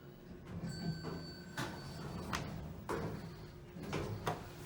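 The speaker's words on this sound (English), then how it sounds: "Door close definitely works." An Otis hydraulic elevator door at a hotel slides shut, giving a few broadband whooshing and thudding surges over steady low machine hum, with a faint tonal whine at moderate distance.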